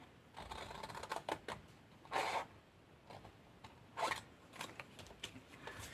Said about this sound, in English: Now from here we are going to cut down alongside that straight line